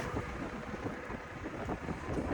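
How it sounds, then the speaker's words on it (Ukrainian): Heavy wind buffets the microphone in a continuous roaring rumble with gusty fluctuations throughout. "Вітер сильний, так що вибачайте за звук."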